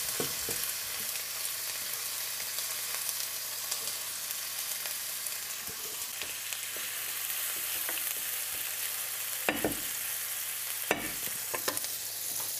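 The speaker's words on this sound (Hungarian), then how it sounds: "Ha elolvadt, akkor teszem bele a hagymát." Onion frying in melted lard in a pan gives a steady, close sizzle throughout, with a few sharper clicks and scrapes from stirring near the end.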